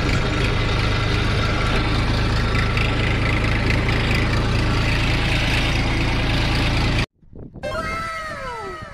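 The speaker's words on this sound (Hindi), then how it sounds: "ट्रैक्टर लेकर आ गए और हमारा दूसरा ट्रैक्टर वो अभी भर रहा है।" A farm tractor engine runs close and loud for about seven seconds in a steady, rumbling drone, then cuts off abruptly and is followed by a few rising and falling high-pitched animal calls.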